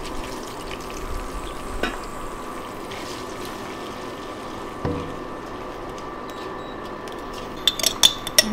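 Shrimp frying in garlic-infused oil give a steady, close sizzle through the whole stretch, with a few scrapes and clinks of a utensil near the end and no talking.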